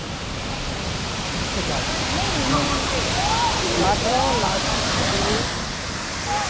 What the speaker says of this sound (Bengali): দেখো কি বড় ওয়াটারফলস, উপরেও যাওয়া যায় এই সিঁড়ি দিয়ে ঘুরে ঘুরে গিয়ে